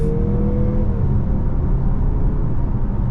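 A 2023 Mazda CX-50 2.5T with all-wheel drive pulls away from a standstill, its engine rising as a steady, loud low rumble and whir heard from inside the cabin.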